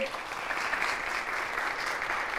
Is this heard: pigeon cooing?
no